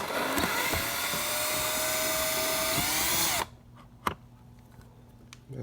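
A handheld power drill whirs steadily at high speed for about three and a half seconds while cleaning out a Hoover WindTunnel bagged vacuum's hose, then stops abruptly, leaving quiet room sound and a single knock.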